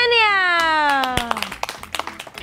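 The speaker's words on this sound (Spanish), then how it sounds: "Un fuerte aplauso, Yesenia." A long falling squeal gives way to scattered, uneven hand claps from a small audience greeting a performer at an amateur show, the claps brief and fading out quickly.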